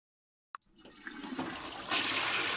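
A sharp click, then a video game phone ringtone of a toilet flushing, with rushing, swirling water that builds and stays loud to the end.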